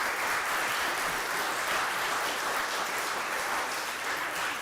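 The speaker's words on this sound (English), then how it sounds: "Give yourselves a big round of applause." Sustained applause from an audience at a Witness Stone installation ceremony honoring students, dense and even clapping throughout, loud and continuous.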